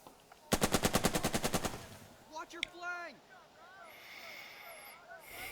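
A rapid machine-gun burst of about a dozen evenly spaced, loud shots rings out in the tactical war game Burden of Command, then gives way to softer in-game sounds and distant chatter.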